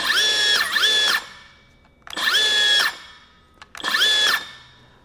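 A Milwaukee M12 Fuel cordless circular saw revs up three times, each whining run lasting about a second before the electric blade brake stops it quickly. Loud and close, with short pauses between bursts and no talking.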